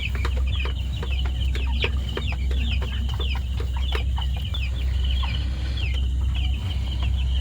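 Tiger chickens cluck on a farm, many overlapping short calls near and far over a steady low hum, with no talk.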